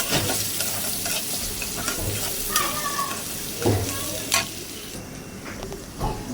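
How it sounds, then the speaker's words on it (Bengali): Leafy greens and onion fry in plenty of oil, a steady crackling sizzle broken by a few sharp spatters and occasional stirring scrapes in the pan. "শাকটা তেলে দেবো পেঁয়াজ দিয়ে দিলাম"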